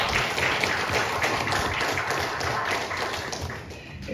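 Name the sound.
applause for God from the congregation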